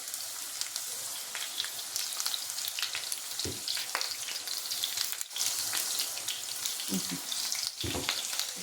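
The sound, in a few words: potatoes frying in a pan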